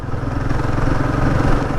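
A Royal Enfield Guerrilla 450 motorcycle engine idles up close while coasting downhill, a low rumbling drone with a faint clattery texture, running continuously and fairly loud.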